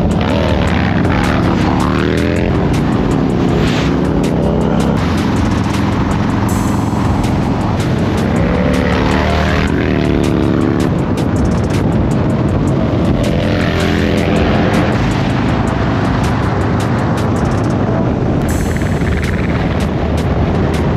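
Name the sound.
motorcycle riding off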